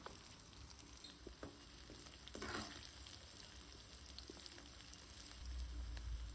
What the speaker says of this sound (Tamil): வெங்காயம் நல்லா 3/4 பாகம் வேகணும், அதுக்கப்புறம் தான் தக்காளி போடணும்